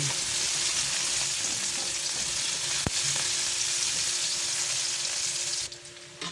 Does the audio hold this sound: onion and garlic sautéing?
yes